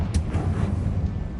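A Confringo fire spell cast in Hogwarts Legacy gives a short whooshing burst with a rumbling low roar, and it stays fairly steady for a moment alone with no talk.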